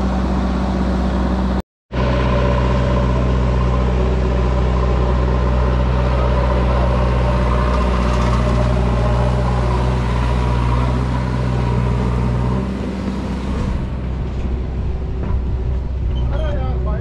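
Kubota MU 5501 tractor engine idling hitched to a loaded trolley, a steady loud low drone with harmonic hum running throughout, a brief dropout near the start and a slight change in tone toward the end.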